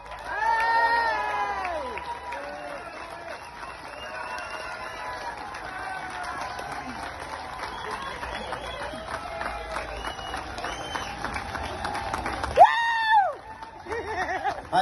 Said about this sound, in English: put your hands together and give a mighty cheer for Paddy Diver